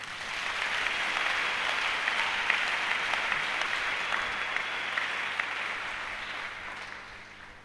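A church congregation applauding the Lord during a pastor's sermon, a dense, steady roar of many hands clapping that carries on for several seconds and fades slightly at the end.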